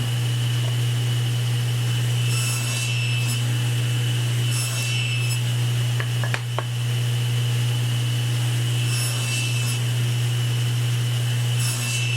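Handsaw cutting tenons in wood with a single blade, with soft rhythmic rasping strokes in short bursts over a steady low hum, fairly close.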